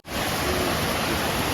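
A forest waterfall roars as a constant, dense wash of falling water, loud and close, with no voices over it.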